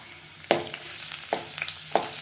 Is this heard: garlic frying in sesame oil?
yes